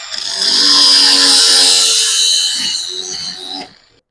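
A loud, steady high-pitched whine of a power tool cutting through a metal golf club shaft, lasting several seconds before winding down and stopping.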